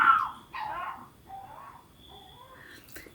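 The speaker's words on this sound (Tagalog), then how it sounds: "Ingay ng aso." A dog barks and yips a few times at moderate distance, with whimpering sounds between, in a fairly quiet setting.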